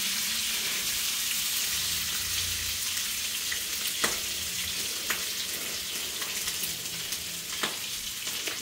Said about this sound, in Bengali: মাংস জাল দিয়েছে, এখন সেটা ভাজছে